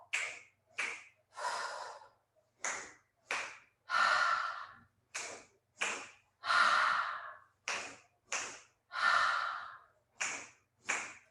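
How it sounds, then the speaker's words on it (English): Rhythmic, audible breaths during a Pilates-style mat workout with a ball, each inhale and exhale forming short breathy bursts, some longer sighing exhales, close and fairly loud with no talk. "Inhale, inhale, exhale."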